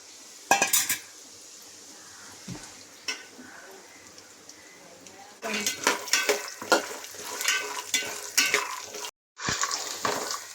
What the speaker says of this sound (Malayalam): ഈ കപ്പലണ്ടി ഒന്ന് വറുത്ത് കോരിയെടുക്കാവേ